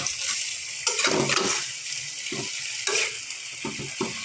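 A fish curry with cauliflower, potato, beans and tomato is stirred in a pan, sizzling softly with repeated bursts of spatula scraping and clattering at irregular intervals, close and alone.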